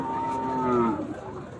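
A bull at a crowded livestock market lets out a single loud, drawn-out moo up close, falling away after about a second amid steady background market noise.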